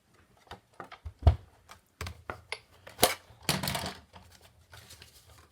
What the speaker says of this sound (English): So we'll put this in our Big Shot and we will cut this through.